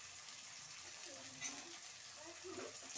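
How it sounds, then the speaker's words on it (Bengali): Onions frying in a pan for a potato and mutton curry, with a steady close sizzle throughout and a few soft stirring scrapes, no talk. "পেঁয়াজগুলো ভালো করে ভেজে নেব।"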